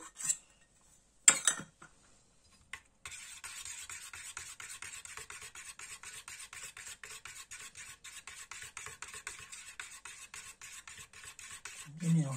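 A spoon stirs ingredients with grated ginger in a bowl, a steady rapid scraping rhythm that runs continuously after a couple of brief clinks, close and moderately quiet, with no talking.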